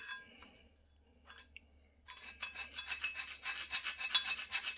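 Scraping ash from the interior walls of a Comfortbilt HP22N pellet stove: after a few faint scrapes, a steady run of close, loud rasping strokes with a fairly regular rhythm.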